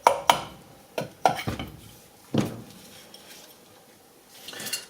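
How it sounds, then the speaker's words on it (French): Light mallet taps knocking apart the housings of a Garrett GT1549S turbocharger during a rebuild, a handful of sharp metallic knocks spaced irregularly, close and moderately loud, with quiet pauses between. "Vous pouvez utiliser un maillet, taper délicatement."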